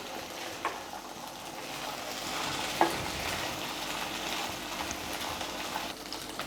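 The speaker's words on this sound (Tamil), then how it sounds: "2 நிமிஷம் அடுப்பை ஸ்லோ ஃப்ளேமில் வச்சுட்டு இந்த மசாலாவோடு சேர்த்து மீல் மேக்கரை வேக வச்சிடலாம்." Soya chunks (meal maker) cooking in masala on a slow flame make a steady, soft sizzle with occasional stirring scrapes, one sharper clink near the middle, no talk.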